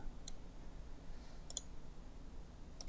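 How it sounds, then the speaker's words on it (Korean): A computer mouse clicks while someone works in Autodesk Vault CAD software. A few sharp, faint clicks fall at irregular intervals, including a quick double click, over low background hiss with no voices. "RB 클릭 작업 평면 클릭 클릭합니다."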